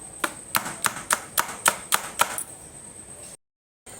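Kachori dough with baking soda and garam masala beaten by hand, about eight sharp, evenly spaced slaps in quick rhythm, close and clear, then a brief silence before another slap starts.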